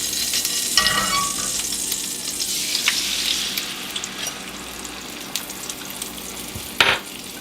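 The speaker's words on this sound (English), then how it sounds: "we're going to fry the egg. See, lots of oil." An egg frying in plenty of oil in a pan, with a steady hiss and sizzle throughout, a brief burst near the start and a sharp spatter close to the end, with no talk.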